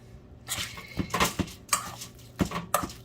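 Corned beef hash and chocolate chip cookie dough being mixed in a bowl, producing irregular clinks and scrapes of a utensil against the dish in short bursts, close and moderately loud with no talk.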